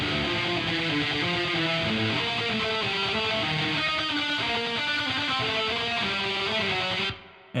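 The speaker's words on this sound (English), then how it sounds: "the guitar tone by itself would sound like this" Solo electric guitar tone for a metal song, a thick distorted riff with shifting picked notes over steady low chugging, loud and continuous, stopping suddenly near the end with no talking.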